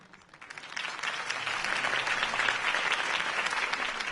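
Crowd at a Harvey Dent campaign rally in Batman: The Telltale Series bursts into applause, swelling quickly into steady, dense clapping and cheering from a large audience.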